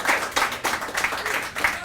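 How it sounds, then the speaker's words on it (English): Audience at a poetry night clapping together, a short burst of close, lively applause with distinct hand claps rising and falling over a couple of seconds, no talk over it. "Let's have a round of applause for everyone who performed tonight"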